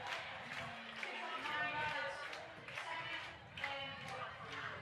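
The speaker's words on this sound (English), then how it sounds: "East Jordan crowd coming back alive." At an East Jordan high school football home game against Charlevoix, the crowd cheers in swelling waves with scattered claps and shouts, mixed with nearby talking.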